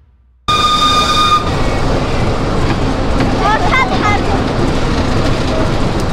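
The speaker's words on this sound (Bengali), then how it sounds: "ভিউয়ার্স রাতের বেলা ট্রেন ভ্রমণে আছি আমরা, এখন রাতের বেলা ট্রেন ভ্রমণ।" An amusement park ride train at night at Fantasy Kingdom starts with a sudden loud, steady rumble close by, with a thin high whine early on and scattered faint squeaks over the continuous roar.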